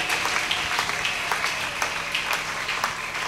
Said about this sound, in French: Si c'est le cas, acclamez la parole.